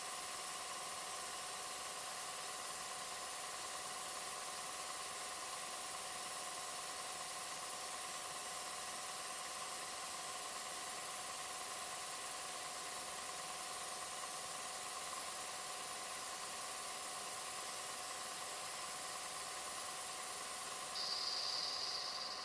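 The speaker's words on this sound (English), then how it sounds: "just spray that until it's all done spraying" An airbrush sprays makeup foundation in a long, steady hiss that runs without a break, close by and unchanging, with a slight shift near the end and no voices.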